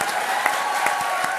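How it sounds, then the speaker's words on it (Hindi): Steady applause from a studio audience at a comedy show stage, a dense even wash of clapping with a few sharper claps standing out throughout. "जोरदार तालियां बजाओ"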